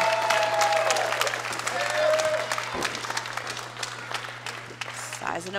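Wrestling arena crowd cheering and applauding after Sam Shaw's spinebuster at an NWA USA event, a loud sustained roar with whistles and clapping under a commentator's voice.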